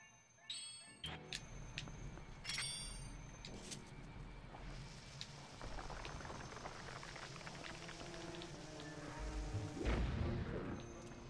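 Bombs go off in the video game Zelda Twilight Princess, two deep booms sounding near the end among crackling game effects and earlier sharp clinks. The blasts are moderately loud over a steady low game background.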